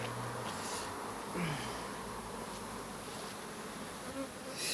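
Honey bees buzz around an open beehive during super and frame work, a dense steady hum of many insects with individual bees droning close by and passing.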